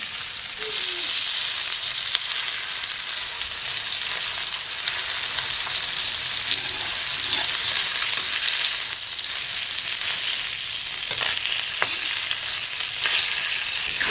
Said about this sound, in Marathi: मधल्या भागी बाकीचे जो खडस माशाची बोटे आहेत त्या मधल्या भागी फ्राय केल्या जातील